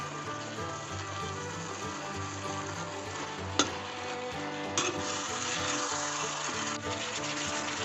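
Loud, continuous sizzling of morning glory (water spinach) stir-frying in a hot wok, with a couple of sharp scraping clinks as it is stirred.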